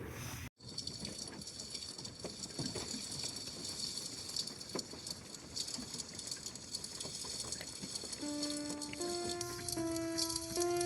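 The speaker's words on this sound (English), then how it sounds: "it's really, really raining outside now" Heavy rain drums on the outside of an SUV during winter camping, a dense, continuous patter close around the vehicle, joined near the end by a few sustained musical tones.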